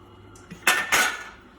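Corn fritter batter being stirred in a bowl for baby corn fritters, heard as two sharp clinking scrapes of a utensil against the dish in quick succession, close and clear, with no talk.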